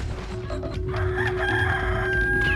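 Chicken clucking and crowing in the Resident Evil 4 remake, a fairly close, strained fowl call rising over game ambience for a couple of seconds.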